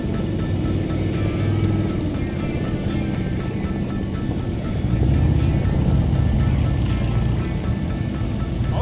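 A motorcycle engine idling and revving during slow clutch and throttle practice, a steady close rumble that swells and eases, with a stronger surge around the middle, no clear talk.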